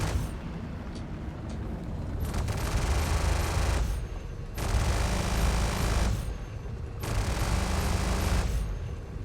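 Ship-mounted cannons and repeater guns on a Drake Clipper fire in Star Citizen, a dense roaring barrage in loud bursts of a second or two broken by short gaps, with no voices.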